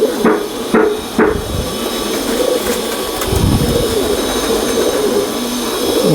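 Sialkoti pigeon cooing in a loft, low soft coos under steady background hiss, with three sharp knocking clacks near the start and no talk.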